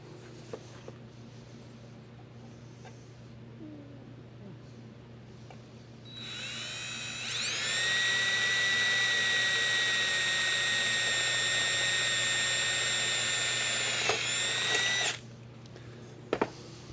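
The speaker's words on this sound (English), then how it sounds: "Then we're going to re-drill that rivet." A power drill whirs up to a steady high-pitched whine for several seconds, drilling out a rivet in sheet metal ductwork, then abruptly stops; quiet workshop hum before and after.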